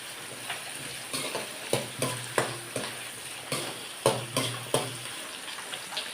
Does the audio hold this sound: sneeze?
no